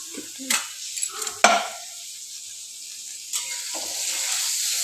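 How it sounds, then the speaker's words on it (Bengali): Steady oily sizzle of paneer frying in a pan, with a few louder bursts and clatters early on, continuing under faint background voices. "এখন পনিরগুলো ভাজছি"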